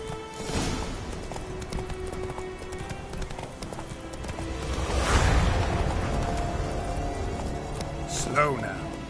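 Horse hooves galloping in The Witcher 3: Wild Hunt, a steady rapid clip-clop that grows louder midway, with rustling gear, a brief whoosh near the end and someone speaking at times.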